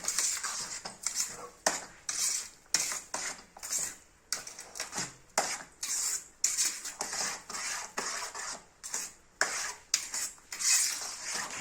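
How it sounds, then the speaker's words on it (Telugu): A spoon stirs sugar into semolina kesari in a pan, scraping and clinking against the metal in quick, repeated strokes, close and fairly quiet, with no talking. "పంచదార పోసుకోవాలి పంచదార కరిగిన దాకా తిప్పుతూ ఉండాలి"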